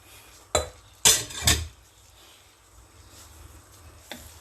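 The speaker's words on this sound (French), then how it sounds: "On essaye de mélanger." Food being stirred in a small cooking pot produces a few close metallic scrapes and clinks of a utensil against the pot, then quieter handling and a faint final tap, with no talking.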